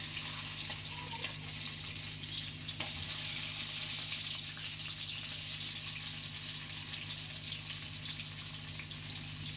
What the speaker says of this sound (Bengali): এখন মাছটা আমি ভেজে নিব, হালকা ভাজবো, বেশি ভাজবো না।